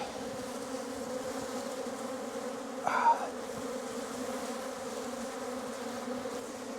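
Steady buzzing from a swarm of bees on a farm in Portugal fills the whole stretch, a dense continuous drone with a brief louder burst near the middle as one passes close.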